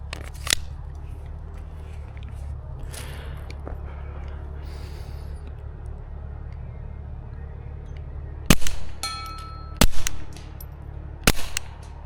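Suppressed Taurus TX22 .22 pistol firing, three sharp muffled pops near the end spaced about a second apart, after a quieter stretch with a few faint clicks over outdoor background.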